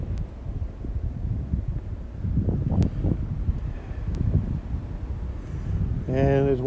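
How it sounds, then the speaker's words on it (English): Heavy wind buffeting the microphone outdoors during a February snowstorm, a low continuous roar with gusts, and a voice speaking briefly near the end. "It's still snowing, still windy, so you may not hear me very well."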